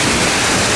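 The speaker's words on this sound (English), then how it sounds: "This is now looking out from behind the waterfall." Loud, steady roar of a famous Icelandic waterfall heard from a path behind the falling water, a dense continuous rush with no gaps.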